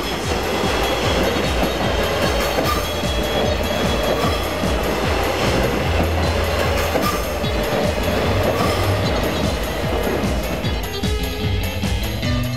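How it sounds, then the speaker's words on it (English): A subway train rides along the line, a loud steady rumble of wheels and carriage noise with faint clickety-clack running throughout, no talk over it. "We rode the subway with no destination, on down the line."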